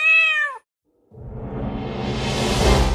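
A cat meows once, close and clear, with a short rising-falling cry, followed after a brief silence by a swelling whoosh that builds louder to the end.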